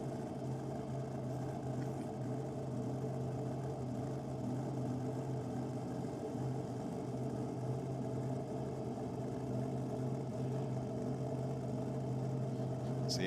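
Junior dragsters idle together in the staging lanes at Sydney Dragway, a steady, continuous engine drone with a low hum that holds evenly throughout, no voices on top.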